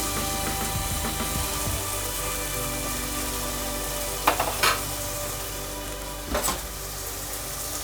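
Eggs frying with cooked onions in a pan for egg pulusu, a steady low sizzle with a few sharp clicks and pops, heard alone without speech.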